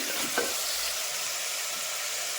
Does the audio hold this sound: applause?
no